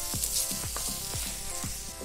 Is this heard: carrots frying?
yes